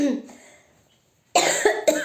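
A woman with a cold and sore throat breaks into harsh, close coughing, several rapid coughs in a burst after a brief pause.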